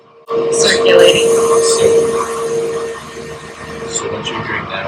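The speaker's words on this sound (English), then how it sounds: "So what you're hearing now is the fan's cooling system and the cooling pump." An electric Mustang conversion with a manual gearbox runs its cooling fan and coolant pump in accessory mode, a steady whirring hum that starts abruptly and continues close by, with voices talking over it.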